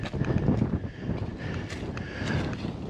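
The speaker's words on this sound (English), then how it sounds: "Well, we're in this gap, so it's real windy." Strong wind gusting through a mountain gap on a hiking trail, a loud buffeting roar with rumbling microphone noise that swells and eases over a few seconds.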